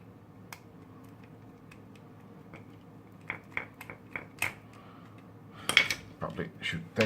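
Small metal clicks and taps as a screwdriver is handled and its bit swapped while taking apart a 50-LED solar Christmas decoration, sparse and close, building into a quicker cluster of clinks near the end.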